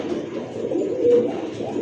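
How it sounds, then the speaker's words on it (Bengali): A male golden Soya Chandan pigeon coos close by, a soft, low, continuous rolling coo that swells slightly in the middle, with no talk over it. "এইটা হলো নরের ডাকটা দেখেন"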